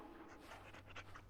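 A dog panting in the video game Dragon Age: Origins, quick soft breaths repeating faintly and close under a low steady background hum.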